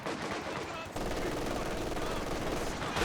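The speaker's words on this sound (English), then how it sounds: "You can kind of see the machine gun coming with the Pathfinders." Machine gun fire in the World War II strategy game Company of Heroes 2, a sustained burst of rapid shots starting about a second in under someone commentator's talk.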